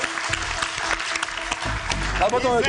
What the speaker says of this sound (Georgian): კიდევ ერთხელ აპლოდისმენტები